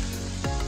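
Tadka tempering for dal sizzling in hot ghee, a steady close crackling hiss with a brief louder burst midway as ingredients hit the fat.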